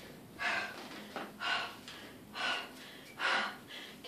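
Heavy, rhythmic breathing after pistol squats, four or five loud close breaths spaced about a second apart, each a sharp airy gasp, with no talking.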